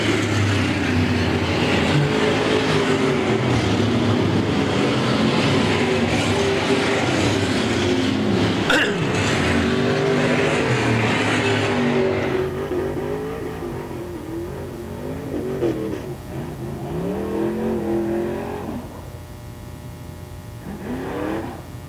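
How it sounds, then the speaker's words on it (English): Pure stock race cars at Brownstown Speedway coming out of turn four on the final lap, a loud roar of engines passing that fades, then quieter engine revving with crowd noise. "Out of turn number four, here comes the winner, Dustin Carr, last lap pass, gets him."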